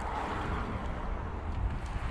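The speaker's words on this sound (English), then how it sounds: "It's really windy today" Steady wind roars against the microphone in a continuous low rumble, strong and close, with no talking.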